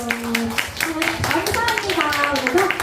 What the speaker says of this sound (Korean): 서로서로 환영하고 축복하는 의미로 박수!